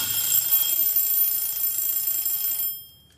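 A kitchen timer signals the end of a 2.5-hour bake for a traditional Victorian Simnel cake, its loud, steady high-pitched electronic ringing continuing for about two and a half seconds before abruptly stopping.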